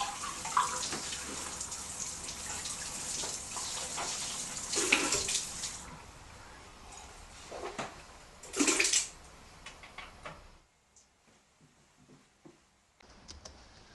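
Running water from a tap rinsing after toothbrushing in a bathroom sink, a steady close hiss with a few louder splashes, then a sudden stop into near silence with faint small clicks.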